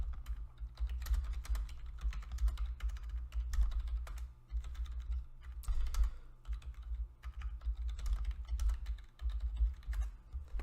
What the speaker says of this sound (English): Just typing into the Twitch chat